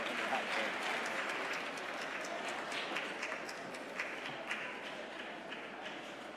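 An audience at an annual conference applauds a singer, with dense steady clapping throughout at moderate distance.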